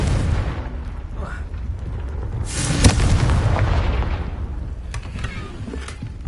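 A Confringo fire spell bursts in Hogwarts Legacy, a booming, rumbling blast with a sharp crack near the middle that swells and fades over several seconds, loud and close with a sustained low roar.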